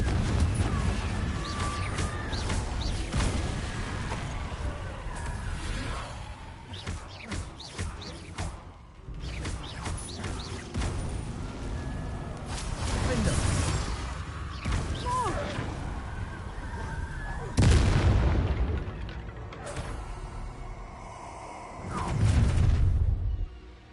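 Repeated blasts and crashes of the Confringo blasting spell go off during combat in Hogwarts Legacy, booming over dense, continuous game action and music, with heavier impacts toward the end.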